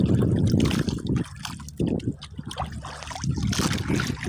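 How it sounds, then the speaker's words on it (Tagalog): Big waves slosh and splash against a small wooden fishing boat at sea, irregular bursts of churning water rising and falling in close succession, loud and near, with no voices. "Malaking alon, no idol"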